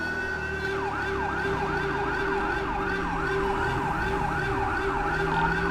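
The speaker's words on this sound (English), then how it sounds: "There's the new sirens, guys. This is actually called the Howler." A loud, continuous wailing Howler police siren in the video game GTA 5, with a rapid warbling pitch sweep, steady throughout with a low engine rumble underneath.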